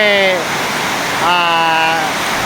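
Heavy rain pours down in a garage workshop with floodwater flowing across the floor, a loud, unbroken wash of rushing water that dominates while someone talks over it.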